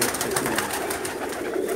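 A flock of dub-type pigeons in a Pakistani loft gives continuous overlapping coos, steady and fairly close, with no voices over them.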